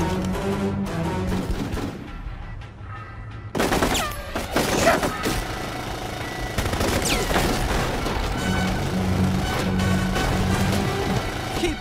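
Gunfire in the 2004 squad-based military video game Full Spectrum Warrior: repeated rifle volleys and sharp reports over several seconds, dense and loud throughout with booming hits mixed in.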